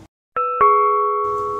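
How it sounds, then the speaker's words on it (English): A doorbell gives a clear two-tone ding-dong, a crisp first strike and a second chime that rings on and slowly fades, with a faint low rumble returning at the end. "who's that ringing the doorbell?"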